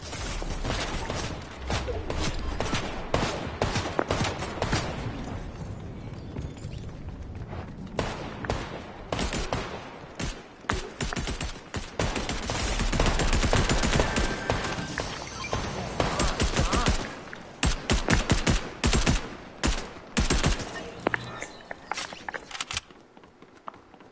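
Dense, continuous gunfire in Fortnite: rapid overlapping shots and loud cracks fill the whole stretch with hardly a break, and no voices are heard.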